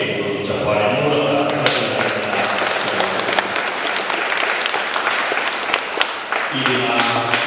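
Applause at a First Holy Communion church celebration honouring the children's mothers, dense, sustained clapping from a large congregation filling the space, with a few voices mixed in.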